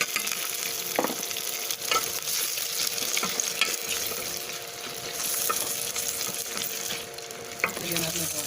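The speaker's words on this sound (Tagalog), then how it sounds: "Gisa natin. Lagyan natin ng seeds." Ingredients being sautéed with seeds in a pan, a steady broadband sizzle throughout with scattered scraping and stirring clinks, fairly close and continuous, no voices.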